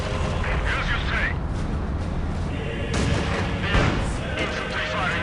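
Tank main gun firing in the Company of Heroes game's Poznan Citadel battle, deep booms buried in dense continuous battle noise and rumbling, with voices speaking over the din.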